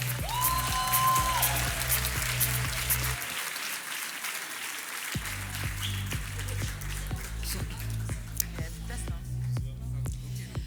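Graduation-ceremony audience applauding for a Master's in Human Resources Management, a steady dense wash of clapping that dips briefly in the middle and then resumes, with scattered louder claps near the end and low music underneath.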